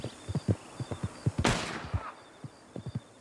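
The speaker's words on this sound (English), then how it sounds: "he actually is shooting the wrong people now" Gunfire in the video game Red Dead Redemption 2 Online: a rapid scatter of short, dull shots at irregular intervals, with one louder blast in the middle trailing off in a noisy wash.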